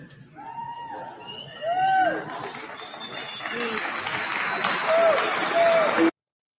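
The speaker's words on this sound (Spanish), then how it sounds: "No sé por qué la gente aplaude." Concert audience applauding in a hall as a rambling man interrupts; broad crowd clapping swells midway and holds steady under his loud talking and whistled tones, stopping abruptly at the end.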